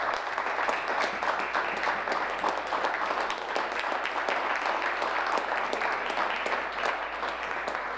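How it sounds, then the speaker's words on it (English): Sustained applause from a ceremony crowd honoring military veterans at a Veterans Day event, many hands clapping evenly at moderate loudness throughout, with no voices on top. "please stand up so we can give you a round of applause"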